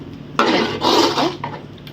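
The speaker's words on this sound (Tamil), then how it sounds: "நம்ம இதை வந்து மூடி விடலாம்" A lid set down over a pot of coconut milk kuzhambu with brinjal and drumstick, giving a short metallic clatter and clink of cookware, close and fairly loud, with no talking.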